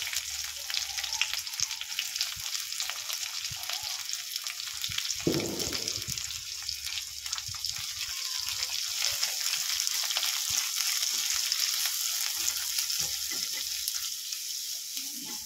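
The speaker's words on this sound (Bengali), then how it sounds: "দেখুন পেঁয়াজটা ভাজা হয়েছে" Onions frying in a little oil with cumin in a kadai give a steady close sizzle throughout, with a brief louder stir or scrape near the middle and no talking.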